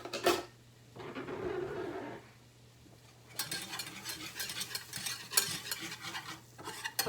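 A whisk scrapes and rattles against a pan while flour is worked into about two tablespoons of melted butter, with quiet sizzling; short strokes come first, then after a pause a longer stretch of rapid, close whisking.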